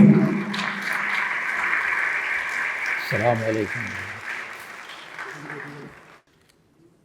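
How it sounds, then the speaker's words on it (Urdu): Audience applause welcoming a reciter at a concluding session of the International Iqbal Conference, a steady crowd clapping that holds for several seconds and fades out, with a voice speaking briefly over it. "بھرپور تالی کی گونج میں استقبال کیجیے"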